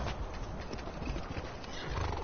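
A horse in Skyrim neighs while its hooves clop beneath, a short, loud, close burst of whinnying over dense hoofbeats.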